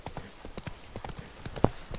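Horse hooves in The Witcher 3: Blood and Wine clip-clop in a steady rhythm, close and fairly quiet, ending in one sharp, loud hoof strike near the end.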